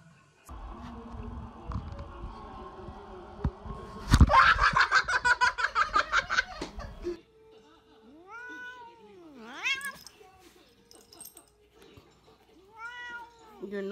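A house cat meows in several drawn-out, rising-and-falling calls, fairly close, following a burst of rhythmic laughter and some clattering from a broken toy; the cries come alone with gaps between them.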